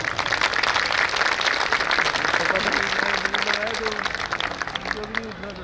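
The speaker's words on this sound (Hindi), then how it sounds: "अविक के लिए एक बार और ताली बजनी चाहिए।" Audience applause at a Hindu Sammelan gathering, steady sustained clapping from a crowd, loud and continuous, with a voice speaking over it toward the end.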